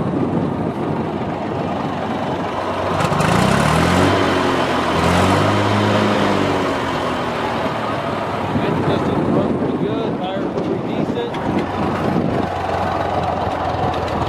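Gas engine of a 1970 Massey Ferguson 135 tractor running steadily outdoors, a continuous rumble under heavy wind buffeting on the microphone, with a voice speaking partway through.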